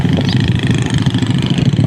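Motorcycles pass along a road with a steady, close engine drone and a buzzing hum that holds loud and even through the short stretch.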